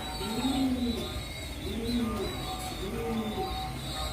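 Silky lacquer pigeons in a loft coo in a soft repeating pattern, about three rolling calls, close and steady over a faint background hum.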